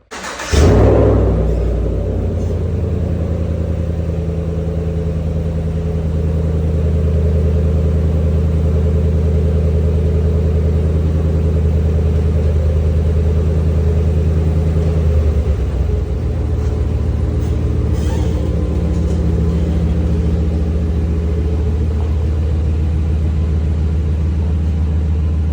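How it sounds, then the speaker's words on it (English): A truck engine drones steadily on a test drive, a low rumble that holds even from start to finish with a brief dip in pitch midway, loud and continuous with no voices. "started test driving the truck"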